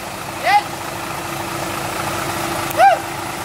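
A dump truck idles at an excavation site where an excavator loads soil for pond digging in Thailand. The low, steady engine rumble runs throughout, broken by two short, high chirps near the start and the end.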